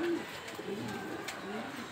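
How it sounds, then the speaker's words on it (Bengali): A pair of pure grizzle racing pigeons coo softly nearby, with a few low, quiet coos over faint background noise and some talking. "এইখানে দেখতে পাচ্ছেন এক জোড়া পিওর আফসান গ্রিজেল রেসার হুমা কবুতর"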